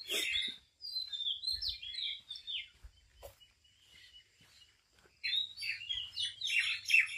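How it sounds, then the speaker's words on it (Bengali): Birds call in a cool, quiet countryside near the Tetulia dak bungalow on the Bangladesh–India border, with bursts of bright chirping and twittering separated by a near-silent pause, fairly close and clear. "পাখিগুলোর আওয়াজ Q Q Q Q Q Q করে ডাকে"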